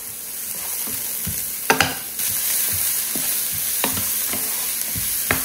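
Onions and garlic fry in hot olive oil in a pan, a steady close sizzle broken by a few sharp scrapes and clacks of a utensil stirring them.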